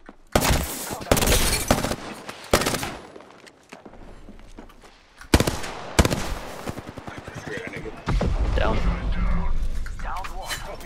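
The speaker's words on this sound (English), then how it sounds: "Start shooting." Rapid bursts of automatic gunfire from the video game Apex Legends, loud and close, coming in several separate volleys with short gaps and louder clusters toward the end, mixed with game effects as players talk over the shooting.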